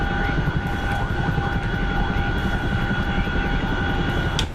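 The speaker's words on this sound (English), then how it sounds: "Trying to make sure I don't blade stall my Chinook." A Chinook helicopter in a video game drones with a steady loud rotor and engine whine, constant tones holding throughout with a brief click near the end, no talk over it.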